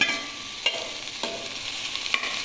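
Chopped beans and carrots sautéing in a pot of hot oil, a steady sizzle broken by a few quick scrapes of stirring, close and alone.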